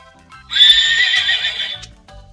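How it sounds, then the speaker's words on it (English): A horse neighs once in a loud, shrill whinny that lasts over a second and then tails off, with faint hoof clip-clops before and after, alone without talk. "Can you neigh like a horse?"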